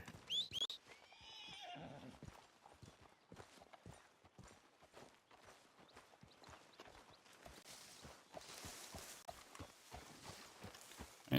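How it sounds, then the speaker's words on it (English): A horse whinnies up close at the start, followed by a long run of steady hoof clip-clops that keeps going to the end with no talking. "There's my horse here."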